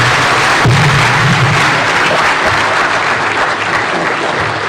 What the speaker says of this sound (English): a round of applause to His Excellency the President